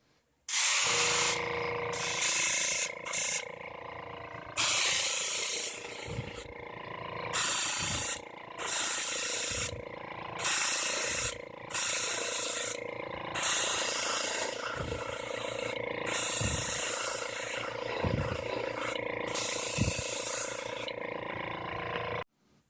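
Repeated short, loud hissing bursts from a spray can painting a DIY Lawgiver toy gun prop, about ten in a row, separated by brief pauses.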